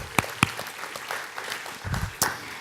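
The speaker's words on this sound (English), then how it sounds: "Let's give them one more round of applause." A church congregation gives a short round of applause, with scattered claps at moderate volume, a few sharp nearby hand strikes and a low murmur near the end.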